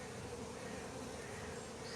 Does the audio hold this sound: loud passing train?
no